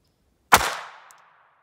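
A single sharp shot from a Ruger LCP II .22 LR pistol firing Aguila Super Extra ammunition over a chronograph from about three feet, a loud crack whose ring tails off over the next second, with no talk.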